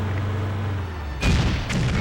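A booming blast from the Stuntman stunt-driving game on PlayStation 2 cuts in abruptly over a constant engine hum, followed by a second, smaller burst of crashing noise.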